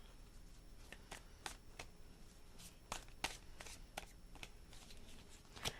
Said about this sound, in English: Let's do 3 shuffles